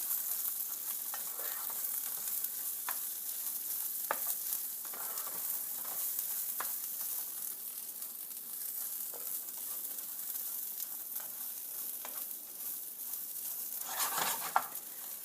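About a cup and a half of rice toasting in a pan over medium-high heat, a constant soft sizzle broken by repeated scraping stir strokes, close and alone.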